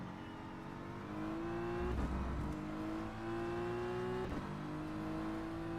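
A BMW M4 GT3 race car engine in the sim game rFactor 2, steady high revs rising through gears with brief shift breaks, close and continuous without talk.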